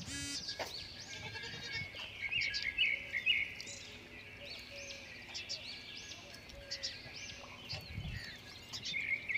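Goats of the Sirohi, Ajmeri and Gujari breeds at a goat farm bleat repeatedly, near and far, with birds chirping and some background talk.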